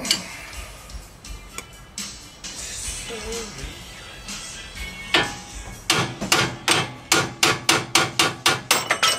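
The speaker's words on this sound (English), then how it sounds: "Little persuasion with the hammer." Scattered taps lead into a run of sharp, evenly spaced hammer blows on metal while fitting Bronco tie rods, ringing clearly and growing steady toward the end.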